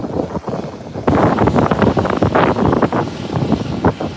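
Beechcraft 1900 turboprop arriving at the airport, a loud rising propeller and engine drone that kicks in abruptly and throbs steadily, fairly close.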